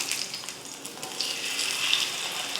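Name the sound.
fish frying in oil after being flipped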